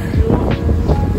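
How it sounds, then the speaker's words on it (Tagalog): Gusty wind buffets the microphone, a rough, rumbling roar that swells and dips over a short stretch. "Tapos umahangin pa."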